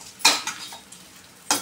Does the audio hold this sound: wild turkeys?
no